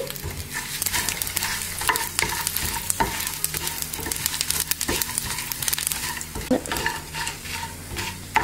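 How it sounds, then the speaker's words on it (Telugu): Dry red chilies, sesame seeds, coriander seeds and cumin stir-roasting in a pan for a stuffed brinjal curry, giving a steady close sizzle with repeated scraping and clinking of a stirring spoon against the metal. "ఎండుమిరపకాయలు, నువ్వులు, ధనియాలు, జీలకర్ర కూడా వేసేసి మనం వేయించుకోవాలి."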